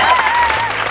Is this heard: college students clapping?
yes